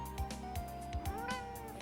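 A cat meows repeatedly in short, distinct calls, several close-up mews in quick succession with a soft background hum and no talking.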